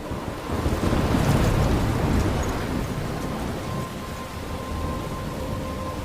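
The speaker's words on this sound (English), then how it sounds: "I'm trapped in a storm?" A stormy coastal scene near a lighthouse in the video game Life is Strange, with a loud, continuous roar of wind and crashing surf mixed with rumbling thunder, filling the whole stretch with no speech.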